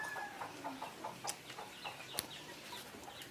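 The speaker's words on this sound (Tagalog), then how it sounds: "Yung mga manok namin, mga manok ko" Chickens cluck in short, irregular bursts close by, with small sharp calls breaking through a quiet outdoor background.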